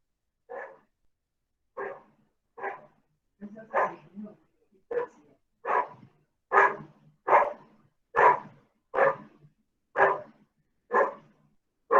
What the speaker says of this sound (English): My little dog PP is barking.